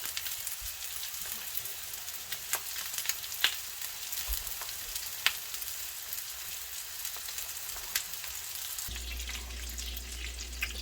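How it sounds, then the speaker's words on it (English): Food sears in a hot pan with a steady hiss broken by scattered sharp pops and crackles. Near the end the sound shifts to a lower, duller rumble, and no one speaks. "Sear it on one side, flip it, sear it on the other side"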